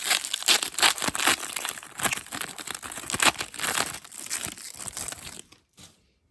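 Foil trading card packs, Jordan basketball cards, being torn open and handled, with continuous loud crinkling and ripping bursts that fade out near the end.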